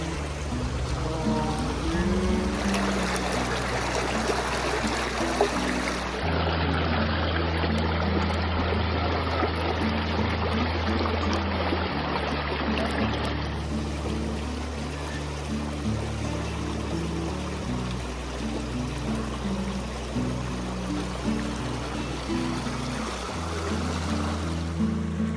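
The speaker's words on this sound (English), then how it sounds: "After spending a little bit of time in the water and enjoying the sounds of the water" A stream flows steadily near a camping and hiking route around Page, Arizona and Bryce Canyon, a continuous rushing wash of water lasting throughout at an even level, with low tonal sounds underneath.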